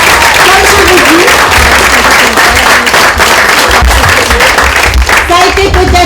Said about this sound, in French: d'applaudir ces enfants-là un peu plus fort